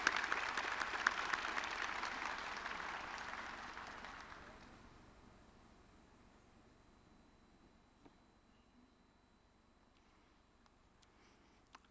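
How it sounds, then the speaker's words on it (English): A round of applause at a college pinning ceremony for radiography, MRI, sonography and surgical technology graduates, a full crowd clapping loudly for about four seconds before fading away to near silence. "I'd like to give them all a round of applause for congratulations"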